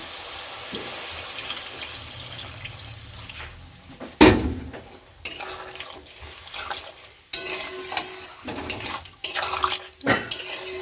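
Water poured into a pan of vegetarian meat curry, splashing and sizzling against the pan with scraping and stirring clatter, a sharp clank near the middle, and no voices.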